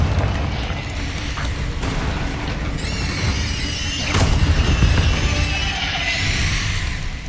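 Spell blasts burst in a Hogwarts Legacy fight, loud crackling explosions with a sharp bang near the middle and rising whistling squeals, layered over continuous game noise.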